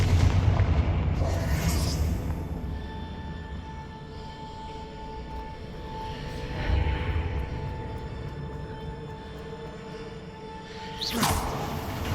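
Repeated booming fire-spell explosions in the video game Hogwarts Legacy, a Confringo blast over a steady game soundscape, with a louder burst near the end.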